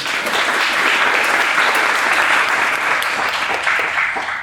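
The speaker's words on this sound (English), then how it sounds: "A huge round of applause to you." Audience gives a huge round of applause at a talk, a dense, even wash of many hands clapping that holds steady and loud throughout.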